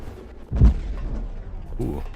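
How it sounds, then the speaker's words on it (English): A big explosion in the video game FortressCraft Evolved sounds as a deep, booming thump that swells and fades, with a second softer rumble shortly after, heard under someone talking. "Ooh, that sounds like a big explosion"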